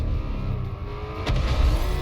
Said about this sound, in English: That car's gonna smash us to pieces!